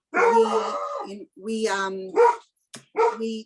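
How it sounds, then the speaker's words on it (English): A dog barks a few times in a room during a spoken address, the short yips overlapping a person's voice, moderately close. "And I apologize for my dog."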